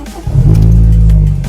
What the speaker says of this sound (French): Donc je vais démarrer la voiture.